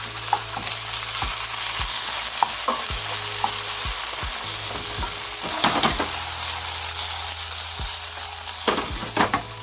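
Squid balls sizzle steadily in a hot oiled pan while a utensil scrapes and clacks through them in irregular strokes, close and fairly loud, with no voices.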